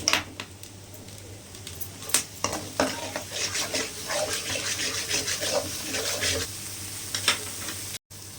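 Chicken thokku ingredients with curry leaves are stirred and sautéed in a pan, bringing close, steady sizzling and frying with irregular scraping strokes of a spoon against the pan.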